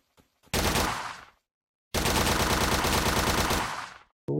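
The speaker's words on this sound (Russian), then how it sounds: "Я стрелял 100 патронов." Rapid automatic gunfire from the Planet Explorers video game, loud and close, in two sustained bursts with a short pause between them and no voices.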